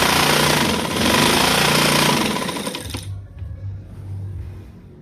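A motor-driven sewing machine stitches elastic into a pair of trousers, running in a loud, steady whir for about three seconds and then stopping, with only a low hum left behind.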